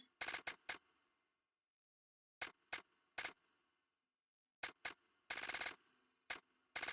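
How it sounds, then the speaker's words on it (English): Machine gun fire in the Final Fantasy VII video game rattles out in short, sharp bursts of rapid shots, separated by silent gaps, loud and close. "Machine gun bullets."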